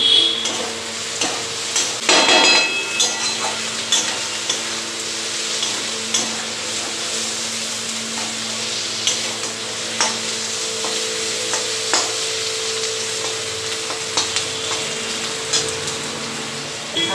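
Spice masala for a mutton curry is stir-fried in a pan with a steady sizzle, while a spatula scrapes and knocks against the metal in scattered taps throughout.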